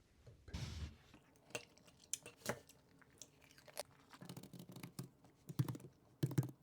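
Soft, irregular taps of fingers typing on a computer keyboard, mixed with quiet crunching as someone eats while working, close and faint with brief pauses.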